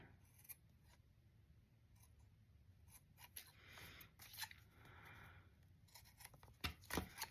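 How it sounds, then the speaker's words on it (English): Scissors snip off excess ribbon in a papercraft butterfly project, giving several short, faint, close crisp cuts scattered between quiet handling sounds, with no talking. "you're going to cut that excess ribbon off"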